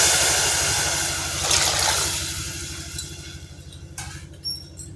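Coconut milk, about one and a half glasses, is poured into a pot for mixed-vegetable coconut rice, making a steady rushing pour that fades after about two seconds over a low mechanical hum.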